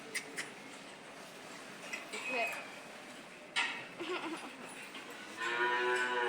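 A cow at a cattle farm lets out a drawn-out moo near the end, after scattered clatter and rustling, while people talk nearby.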